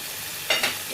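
Chicken pie filling with garlic powder and salt stirred in a hot pan, a steady soft sizzle with two brief scraping strokes of the spoon, close and without speech.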